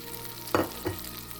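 Pieces of bread dropped into melted butter in a pan, a faint steady sizzle with two short splashy bursts as they land, no talking.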